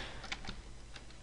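Typing on a computer keyboard: a few soft, scattered key clicks, faint and close against a steady background hiss.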